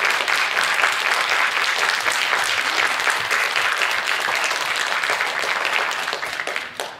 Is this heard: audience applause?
yes